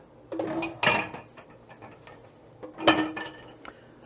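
Bowls and utensils shifted into a kitchen sink while baking pancake bread, two clusters of close clinking and clattering of dishes and metal, with quiet gaps between.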